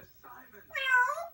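A pet parrot mimics a cat's meow on command, a single clear drawn-out meow-like call rising after a softer short vocal sound, close and loud with no other noise.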